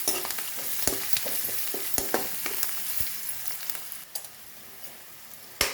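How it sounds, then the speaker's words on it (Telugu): Turmeric frying in a pan for cabbage rice, a steady close sizzle with scattered sharp clicks and scrapes from stirring, moderately loud and alone without voices. "కొంచెం పసుపు, ఇది కొంచెం వేగాక 5 నిమిషాలు వేగనివ్వాలి"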